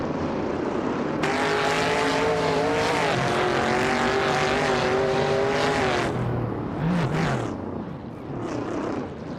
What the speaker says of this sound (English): Bot Spikeballs has just overtaken to take 5th place